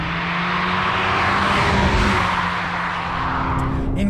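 A 2022 Audi S3 in its sport gearbox setting accelerates with a steady, loud engine drone and rising harmonic tones, heard close from inside the car amid continuous road and wind rumble, without speech.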